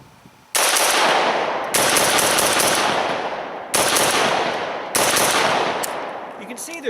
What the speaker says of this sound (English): do some fast fire, give you a sense of how controllable this gun is